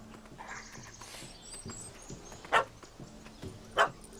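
Dog barking in The Witcher 3, two sharp close barks standing out over low game ambience with faint hoof-like thuds and background noise.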